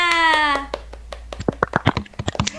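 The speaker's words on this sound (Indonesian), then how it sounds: "tepuk tangan untuk semuanya" Children in a fifth-grade classroom clap their hands, a quick burst of sharp, uneven claps following a teacher's sung or spoken voice.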